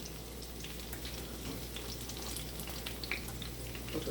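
Saltfish fritters fry in a pan with a steady, close crackling sizzle and scattered sharp pops throughout, no voices.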